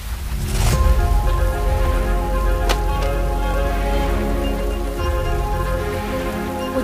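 Heavy rain falls steadily during a thunderstorm, a dense continuous wash that stays loud and even throughout, with a short sharp crack partway through and no talking.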